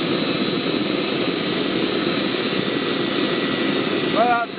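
A gas forge heats steel with a constant, loud broadband roar and a thin steady whine. Near the end, a brief higher-pitched sound and a short voice break in over the roar.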